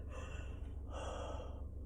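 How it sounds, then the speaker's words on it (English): A long, breathy yawn up close, drawn in and then slowly let out, quiet and with no words. "got a yawn"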